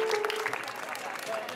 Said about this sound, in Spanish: el maestro Norberto, para quien pido un fuerte aplauso